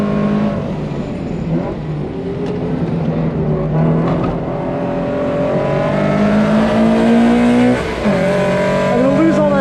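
Subaru BRZ at Pocono Raceway on a track day, engine droning loudly at high revs from inside the cabin, then a brief tyre squeal as the car skids on a corner exit, with a voice talking over it.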